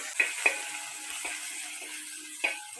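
Beef curry with crushed ginger and garlic is stirred in a pan, a few scraping strokes and soft clinks over a faint low sizzle, close and sparse with quiet gaps.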